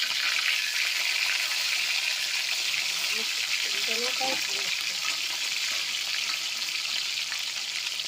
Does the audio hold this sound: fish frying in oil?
yes